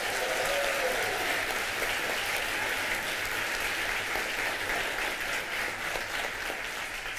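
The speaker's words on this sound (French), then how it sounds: "On peut les applaudir." Steady applause from an audience at the 2023 Dictée PGL finale, a French spelling competition, continuous and moderately loud throughout with no speech.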